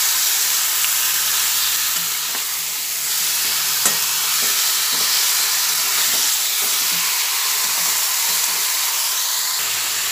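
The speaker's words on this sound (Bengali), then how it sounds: "একসঙ্গে সব মিশিয়ে এবার আবার নাড়াচাড়া করে নিচ্ছি" Drained chicken pieces fry in a pan for chicken murg malai, giving a steady bright sizzle and hiss throughout with faint scrapes and clinks from stirring.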